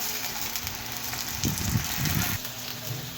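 Eggplant slices fry in oil across two pans, producing a steady close sizzle and crackle with slight swells in the middle.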